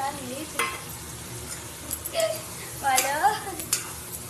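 Spice paste is fried in a pan with potatoes and pointed gourd. A soft, close sizzle is broken by scraping stirring strokes, with a faint voice briefly audible in the background.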